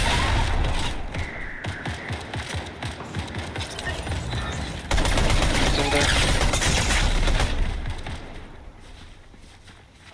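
Video game gunfire in a no-builds shooter match: rapid close bursts and a sustained fusillade with thuds and footsteps, while players talk over it.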